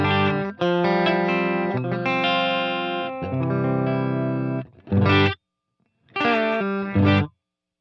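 A blue Telecaster played clean through a Wampler Ethereal reverb and delay pedal rings out in strummed chords with a shimmering, effected sheen. Several bursts come with short pauses between them, and nobody talks.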